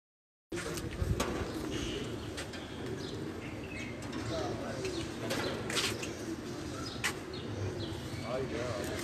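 Old pet pigeons at a loft setup in Pindi coo repeatedly in a busy outdoor soundscape, with other bird chirps and some background voices mixed into a constant ambient noise.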